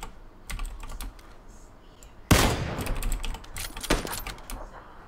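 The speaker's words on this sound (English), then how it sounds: "I can hear your shots" Gunfire in the PUBG video game: a sharp, loud burst of shots followed by a shorter volley, mixed with constant clattering computer keyboard typing.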